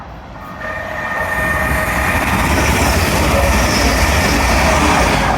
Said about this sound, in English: Pass through now will be a Grand Central Adelante from Sunderland to London King's Cross